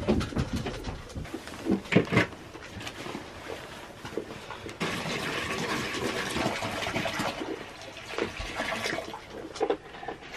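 Old water sloshes and splashes as it is poured out in a dim goat barn, irregular bursts of liquid with a steadier gush in the middle, close and fairly loud, with faint chirping in the background.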